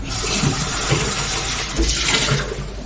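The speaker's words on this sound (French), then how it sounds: "on va pouvoir rincer à l'avance notre verre" Running water rinsing a cocktail glass, a loud continuous close splash and rush of water that fades a little near the end.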